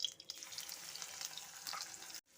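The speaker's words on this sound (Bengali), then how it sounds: "তেলটা গরম হয়ে গেছে, এখন আমি চিংড়ি মাছগুলো ছেড়ে দিচ্ছি" Shrimp frying in hot oil in a wok make a faint, steady sizzle with soft crackles that cuts off abruptly near the end.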